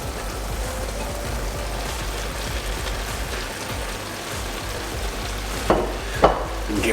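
Leftover turkey meat is stirred into a liquid leek pie filling in a pan, with a constant close wet sizzle and bubbling, and a couple of sharper utensil scrapes near the end.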